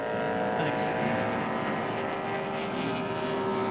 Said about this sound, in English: Pennzoil Pontiac down in turn 2